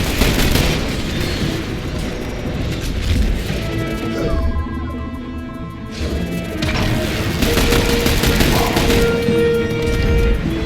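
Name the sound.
grenade explosion in video game The Bureau: XCOM Declassified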